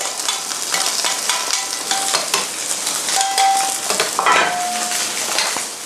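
Sea bass laid skin side down into a very hot pan, a loud steady close sizzle with clinks of utensils and pan, no talk over it.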